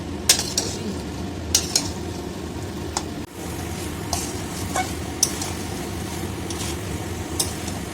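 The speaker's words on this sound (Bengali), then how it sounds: "মাংস থেকে যতক্ষণ না তেল ছাড়বে ততক্ষণ মাংসটা নাড়াতে হবে।" Chicken being stirred with spices in a pan for chicken butter masala, steady sizzling frying noise with frequent clinks and scrapes of a spatula against the pan, close and continuous.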